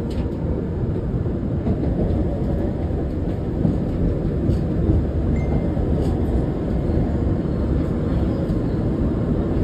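An MBTA Red Line subway train in Boston rolls along near Charles/MGH, a loud, steady, continuous rumble of wheels and car body from inside, with no talking.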